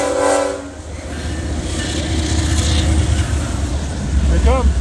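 Four train locomotives rumble past at a rail yard with heavy low clatter, a horn sounding near the end, and voices talking over the passing engines.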